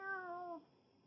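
A single drawn-out meow, clear and fairly close, from a pet cat in a kitchen where chicken is defrosting. The cry bends slightly downward, lasts about half a second, and is followed by quiet.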